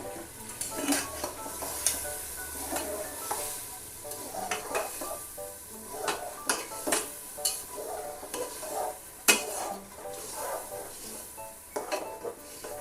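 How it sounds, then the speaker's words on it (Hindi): Lentils being tipped into a metal cooking pot: scattered clinks and scraping stirs, with a soft sizzle underneath and a few sharper knocks. "अब हम इसके अंदर दाल ऐड करेंगे।"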